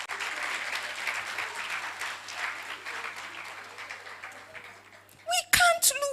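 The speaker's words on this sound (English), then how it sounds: "Please clap." Audience at a policy round table applauds, a sustained round of clapping that gradually thins and fades, followed by a couple of louder, sharper sounds and a brief voice at the end.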